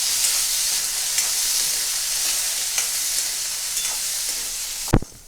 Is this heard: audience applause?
no